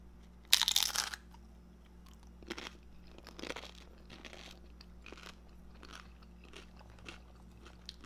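Someone bites into a bite of shrimp ceviche with cucumber, avocado, tomato and jalapeno: one loud crisp crunch, then a series of softer close chewing crunches at a steady pace, with no talking.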